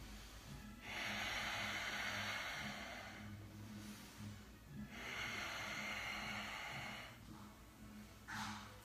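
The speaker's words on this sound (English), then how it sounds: "And then I use my breathing." Controlled breathing during a floor exercise: long, hissing breaths drawn in and pushed out close to the mic, with slow, even pauses between them.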